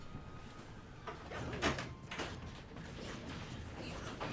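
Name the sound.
door being opened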